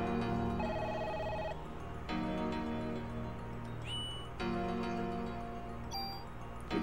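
Electronic phone-like ringing tones from a telephone mimic creature in the game Parasite Eve, repeating in regular bursts over steady game music, with brief higher chirps between rings.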